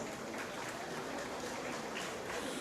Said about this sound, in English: A round of applause to encourage them